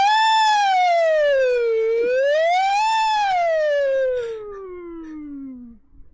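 A siren-like wail, most likely a voice imitating a siren: one loud, clear tone that falls, rises and then glides steadily downward over about six seconds, close and alone.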